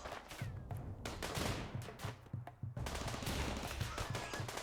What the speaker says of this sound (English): they can be shot at by the mini turrets